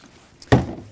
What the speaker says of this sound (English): So I'm going to sanitize my carboy by splashing my sanitizer around and pour it back out.